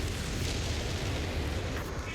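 A whiz-bang rocket barrage explodes in Company of Heroes 3 on Pachino Farmlands, a dense, continuous rumbling roar of blasts with no gaps, loud and filling the whole moment.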